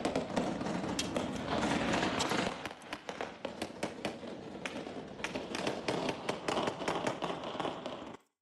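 Rapid bursts of gunfire and sharp explosive cracks near the Miraflores Palace in Venezuela, dense and continuous at first, then thinning into scattered, irregular pops at a distance.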